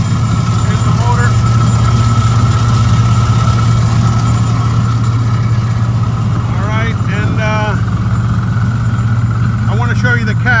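The motor of a 2015 Isuzu Tymco sweeper truck runs with a steady, loud, low drone throughout, while a voice briefly sounds over it toward the end.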